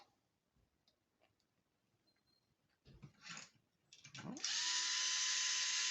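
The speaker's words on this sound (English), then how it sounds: "I would recommend to do this with a screwdriver. It's just faster." A power screwdriver drives screws while a swinging stand is assembled, first a few brief whirs among quiet handling knocks, then one continuous loud whine that is close.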